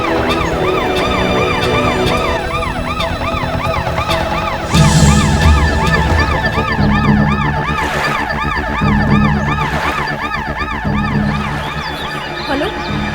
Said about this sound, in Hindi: फ्रेडरिक्स, एम्बुलेंस वालों को बोलो कि लाशें ले जाए